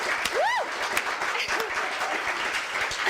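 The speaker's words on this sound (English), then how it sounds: "Let's have a round of applause." An audience at a student VP Sports candidate debate gives a fairly quiet, steady round of clapping to welcome the candidates. An early rising whistle or whoop cuts through the patter.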